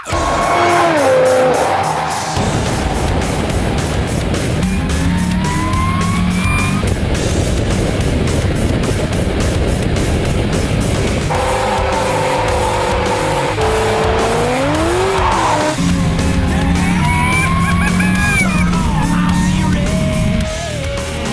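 A supercharged Shelby GT500 Super Snake roars loudly through repeated revving runs, the engine pitch sweeping up and down with supercharger whine and bursts of tire squeal, continuous and close throughout.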